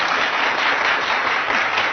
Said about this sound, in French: Je pense quand même qu'elle mérite des applaudissements